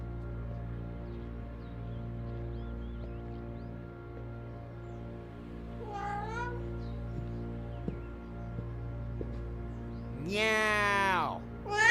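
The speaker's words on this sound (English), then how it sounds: "Meow." A cat meows twice, a short cry midway and a longer, louder one near the end, over a low, steady droning hum.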